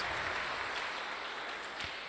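A church congregation applauds in a dense, steady wash of clapping that runs through the whole moment without a break.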